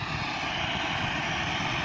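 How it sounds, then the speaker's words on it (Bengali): A Biman airlines airplane on the runway produces a steady, loud engine roar that fills the short stretch without pause. "বিমান এয়ারলাইন্সের নাম হচ্ছে, এবং রানওয়েতে বিমানটি এখন গ্রাউন্ড দিল"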